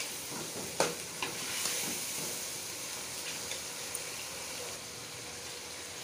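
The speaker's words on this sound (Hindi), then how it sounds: "अब इसमें मैं ये टमाटर धो के काट के रखे हुए ये ऐड कर" Chopped tomatoes drop into a pan of browned onions and sizzle with a soft, steady frying hiss, punctuated by a few light clinks and stirring scrapes, close and moderately quiet.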